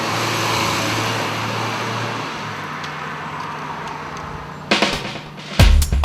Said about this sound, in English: The 1400 motor does a decent job of getting the 500C around the place